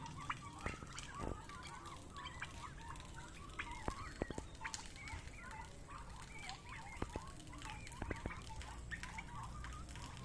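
Several turkeys cluck and gobble in short, scattered calls while grazing on grass on a farm in Shibganj, Chapainawabganj, Bangladesh, over a steady outdoor background, with occasional sharp clicks and no talking.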